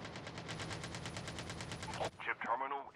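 Rapid automatic gunfire from an AK-47 in the mobile game COD Mobile, a fast steady burst of shots lasting about two seconds that stops abruptly, followed by voices talking.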